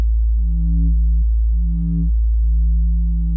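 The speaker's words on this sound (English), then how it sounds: "so that's just the sine wave" A WMD Legion Eurorack analog oscillator produces a steady low sine wave drone, its pitch stepping slightly and pulsing in a slow rising-and-falling pattern, clean and continuous with no voices.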